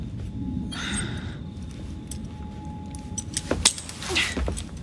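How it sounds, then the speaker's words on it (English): Keys jangle in a brief metallic clink from Assassin's Creed Syndicate, set against a steady low ambient hum, with a couple of louder rattling bursts toward the end. "Now hand over your keys."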